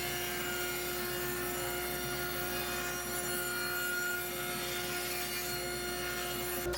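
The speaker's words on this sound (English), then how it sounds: "Once the panels were smoothed, I used my table saw to rip them to width." A table saw rips wooden planter panels to width, a steady loud droning whine with a constant hum, unbroken from start to finish.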